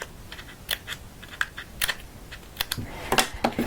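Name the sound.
scissors cutting little paper slats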